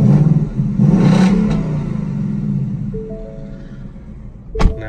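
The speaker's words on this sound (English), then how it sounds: "But let me give you a couple revs." A 2020 Ford Mustang GT V8, a new engine that revs to 7,500 rpm, with the door open: a loud burst of engine revving at close range at the start, easing down to a rumbling idle, followed by a sharp clunk near the end.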